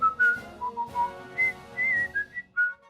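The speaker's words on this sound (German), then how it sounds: "Hör auf mit der Pfeiferei nehmen." A person whistling a short, wandering tune in clear, separate notes with brief gaps, close and unaccompanied.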